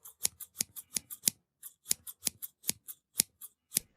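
Scissors snip in quick, crisp bursts, about fifteen sharp cuts in two rapid runs separated by a short pause, close and clean against silence.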